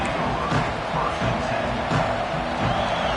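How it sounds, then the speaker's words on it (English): A football stadium crowd roars and cheers without letup, a dense, loud wash of massed voices that holds steady throughout. "This crowd, full throat, splitting the eardrums and letting them know it's going to be a long day."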